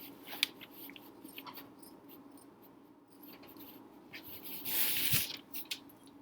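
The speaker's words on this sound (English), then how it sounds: "I'm just going to cut out roughly a square or a rectangle." Scissors snip and slide through cloth in a few quiet, uneven cuts at close range, with a louder rustling cut near the end.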